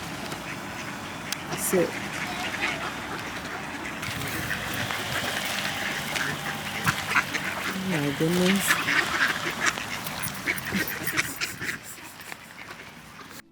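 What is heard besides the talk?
ducks quacking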